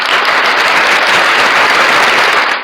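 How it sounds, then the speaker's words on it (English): A dense, steady round of applause from many hands fills the whole stretch at close range and full loudness, with no voices over it, then cuts off abruptly at the end. "So let's give a round of applause to the Denver"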